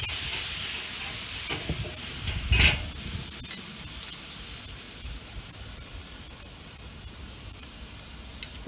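Spray bottle spritzing a full side of smoked pork belly ribs, a sharp hiss burst near the middle over a steady sizzling, steamy background hiss.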